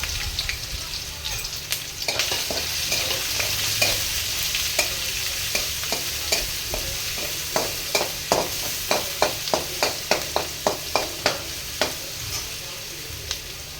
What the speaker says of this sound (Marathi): आता मी यात अद्रक लसूण पेस्ट टाकणार आहे आणि हिरवी मिरची टाकणार आहे.